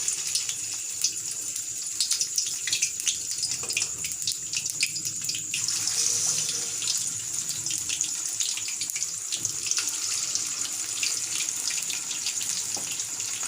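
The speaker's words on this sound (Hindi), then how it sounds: "अब एक पीस उठाएंगे और इसमें फ्राई करेंगे" Marinated lemon chicken pieces fry in hot ghee with a continuous hiss and scattered crackling pops, moderately quiet and steady, with no voices.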